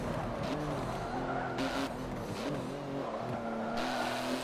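A race car in the video game Forza Motorsport 7 brakes hard into tight corners, its engine droning and shifting pitch while tires squeal and skid in repeated bursts.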